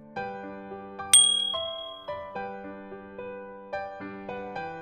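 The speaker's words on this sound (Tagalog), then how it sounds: "pindutin ang notification bell" A notification bell sound effect: a bright ringing ding sounds, then several more clear metallic chimes follow at uneven intervals, each ringing on and fading in a close, clean tone.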